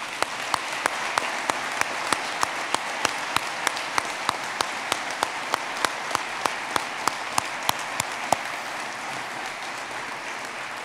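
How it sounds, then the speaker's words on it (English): Sustained applause from an audience at an Eagle Scout dinner, a steady dense wash of clapping lasting about ten seconds with sharp individual claps standing out at a regular pace, no talking over it. "So let's applaud all their accomplishments as well."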